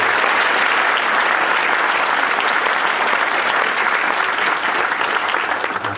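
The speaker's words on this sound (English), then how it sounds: "Let's give them a round of applause." At a 2018 prep school prize giving, a large audience applauds in a hall. The clapping is loud and dense, holding steady for the whole stretch.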